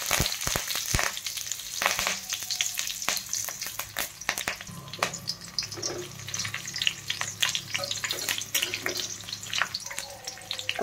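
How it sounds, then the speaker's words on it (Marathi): Whole spices and green chillies fry in hot oil for an egg masala, giving a steady, close crackling sizzle with sharp pops and spits throughout and no voices. "आता पहा या तेलामध्ये मी खडा मसाला, हिरवी मिरची टाकून घेत आहे।"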